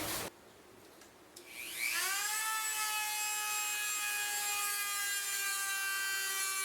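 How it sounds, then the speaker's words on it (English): A rotary tool with a diamond tip grinds into a steel sword tang to fit the guard: a short burst, then the motor spins up into a steady, loud, high-pitched whine that holds without a break. "So I have a rotary tool that I'm going to utilize. I've got a diamond tip on the end of it"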